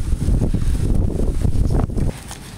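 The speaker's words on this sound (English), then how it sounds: "It's windy." Gusty wind buffets the microphone outdoors, producing loud, rumbling low blasts that rise and fall in uneven surges before easing slightly at the end.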